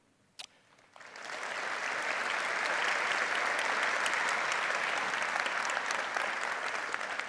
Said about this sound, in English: Let us give them another round of applause in appreciation.